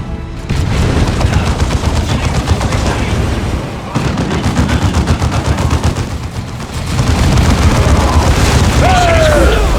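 An Eldar Fire Prism anti-grav tank fires its cannon amid a Dawn of War 2 battle, with heavy booms and rattling gunfire filling a dense, loud wall of combat noise, voices calling out over it.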